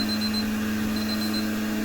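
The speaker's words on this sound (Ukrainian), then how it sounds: "Молочко вже нагрілось, таймер спрацював." A kitchen timer beeps after goat milk has been warmed for separating, a steady high electronic tone sounding near and clear over a constant low machine hum.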